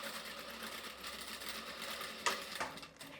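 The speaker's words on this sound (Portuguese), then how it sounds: "e vai costurar." Sewing machine stitching dress fabric, a fast continuous whirring hum, fairly quiet, with a couple of brief clicks near the end.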